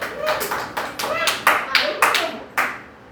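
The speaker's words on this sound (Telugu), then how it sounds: "ఇప్పుడు క్లాప్స్ కొట్టండి" Children clap their hands in a run of about eight sharp, close claps with a short pause midway, during a playful shapes lesson with jumping games, while a voice talks faintly underneath.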